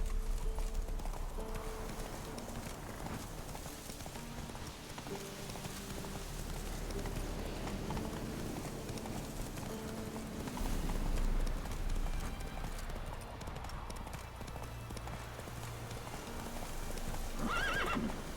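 Horse hooves clip-clop steadily through the Witcher 3 video game world, joined by whinnies and neighs, with a dense game soundtrack and ambience behind, continuous and fairly loud throughout.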